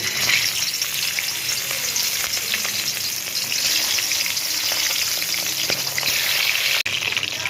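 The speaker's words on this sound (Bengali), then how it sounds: "মুড়োগুলো ভেজে নেব" Fish heads frying in hot oil for a Bengali muri ghonto, a steady loud sizzle with crackling spatter throughout and a brief dip near the end, with no voices.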